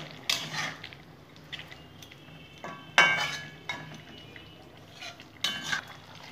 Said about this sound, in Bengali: নেড়ে নেবো একটু